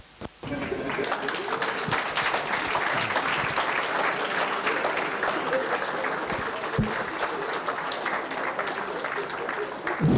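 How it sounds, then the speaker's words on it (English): Applause from a roomful of older people at an International Anti-Corruption Day event, sustained dense clapping that starts abruptly and carries on steadily, loud and close. "as the chief guests receive applause from all the old people in the room"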